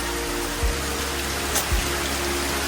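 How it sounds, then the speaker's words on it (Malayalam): Steady rain falls in a continuous, even hiss, with wind adding a couple of brief low gusty thumps against the microphone; no voices. "മഴയുടെ കൂടെ കാറ്റും ഉണ്ട് കേട്ടോ."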